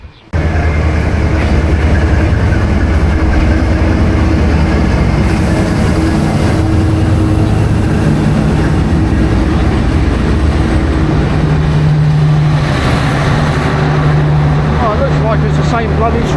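Interior of a Vietnamese passenger train travelling from Ninh Binh to Hanoi, a loud continuous rumble and rattle of the carriage rolling along the tracks, steady throughout with occasional tonal squeals and hums.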